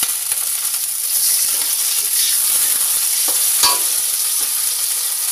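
Ground chili and spice paste frying in a pan with a little added water crackles and sizzles steadily, with occasional scraping stirs, close and without talk.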